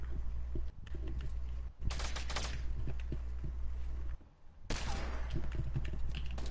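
Hunting rifle gunshots in the Fortnite video game ring out as a few loud, sharp cracks separated by short pauses, over steady game background noise.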